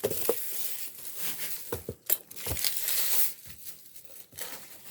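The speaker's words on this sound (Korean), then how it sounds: "비닐하고 같이 돼 있어서 이렇게 까야 되네요." Vinyl plastic film crinkles and peels off a silicone heat-resistant gripping product, close and fairly quiet, a few sharp crackles and snaps spread over several seconds with no talk.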